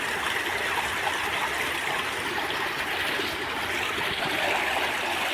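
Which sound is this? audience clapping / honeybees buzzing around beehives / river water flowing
river water flowing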